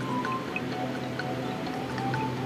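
Lauki kofta curry bubbling gently in a pan, a soft steady simmer with scattered small pops and drips over a low continuous hiss, quiet and close.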